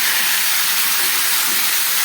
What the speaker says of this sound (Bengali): ফোড়নটা একদম ভাজা হয়ে গেছে আর এখানে এ সমস্ত সবজিগুলো আমি একবারেই দিয়ে দিচ্ছি